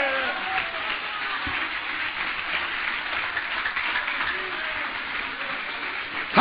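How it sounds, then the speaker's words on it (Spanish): A church congregation applauds in praise during a Spanish-language service, a steady, dense wash of clapping that holds evenly throughout, with faint voices mixed in. "Dale un aplauso a Cristo, que Él se lo merece."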